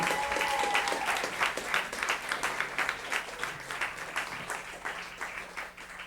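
Room full of people at a Berklee City Music scholarship meeting applauding a performing group, with dense, even clapping that holds steady throughout and softens slightly near the close.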